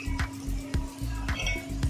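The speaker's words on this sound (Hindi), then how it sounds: "2 मिनट इसको भूनेंगे" Spices roast in a pan for a chickpea curry, with a low steady sizzle and a few evenly spaced scraping clinks of a spoon stirring against the metal, close and fairly quiet.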